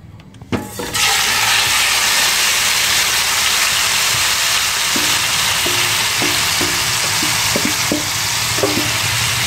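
Chicken pieces with skin dropped together into a very hot pan for Peruvian pollo a la cacerola, an initial clatter bursting into a loud, steady, roaring sizzle that continues with a few small clicks, close and unbroken, no speech.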